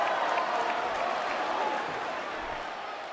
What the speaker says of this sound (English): can you believe the buzz in the arena right now for this WWE World Championship match?